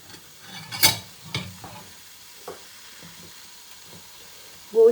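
Onions and mutton go into a cooking pot for a Pakistani mutton and green chickpea curry, giving a few short scraping and sizzling bursts close by, separated by quiet gaps.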